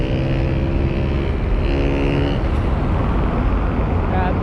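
Dense roadway traffic of jeepneys and other vehicles on EDSA, a continuous loud rumble with passing engine tones, heard near and steady throughout with no clear gaps.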